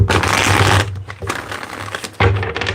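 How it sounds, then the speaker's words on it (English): Papery riffling bursts of tarot cards being shuffled, a long flurry then shorter ones, close and fairly loud with no voices. "let's get one more good shuffle here"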